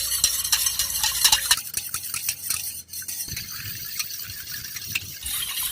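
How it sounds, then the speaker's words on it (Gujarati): A spoon stirs a sweet grape mixture with food colouring in a pot, giving steady scraping and clinking strokes up close with no talking. "પછી આપણે આને હલાવી નાખવાનું છે।"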